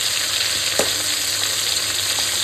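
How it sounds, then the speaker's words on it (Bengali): Dried fish (shutki) fry in hot oil in a pan with a steady, close sizzle and crackle, and a single brief clink of a utensil stirring partway through. "ওই ওই ওই ওই দেখো, মাছগুলো, শুটকি মাছগুলো ভাজা হয়ে গেছে।"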